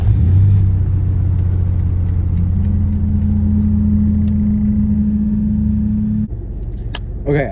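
A Ford Mustang with a swapped-in V8 running after being started, holding a steady deep idle rumble close to the microphone with a slight shift in tone partway through and a few clicks near the end.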